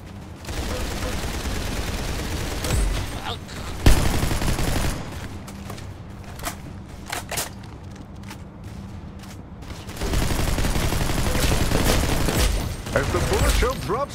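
Gunshots in Roblox Arsenal: dense, loud rapid fire fills the opening seconds, drops to sparse distinct single shots in the middle, then returns as sustained heavy firing.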